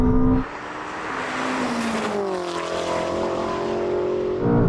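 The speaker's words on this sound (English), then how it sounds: "I think he had wheel spin the first time because that shot off even more this time." A 1000-horsepower BMW M5 and a Ferrari SF90 launch in a drag race, their engines roaring loudly with steadily rising pitch as they accelerate hard away, a sustained powerful blare with no voices.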